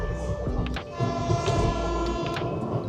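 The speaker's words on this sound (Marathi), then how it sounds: "तर आता मिरजमधून ट्रेन निघाली आहे" Sleeper-class passenger train departing Miraj on the way to Mumbai, giving a steady low rumble of wheels and carriages with brief high squeals and clanks, heard from inside a coach.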